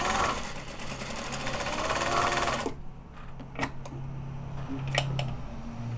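A sewing machine chain piecing quilt fabric runs in a steady fast whir that stops abruptly, then short stitching bursts and clicks follow in a quieter room.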